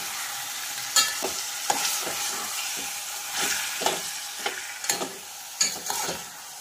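Marinated chicken stirred in a pan as it fries at the start of a chicken soup, with a continuous sizzle broken by repeated scraping, clattering spoon strokes at an uneven rhythm, close up and without voices.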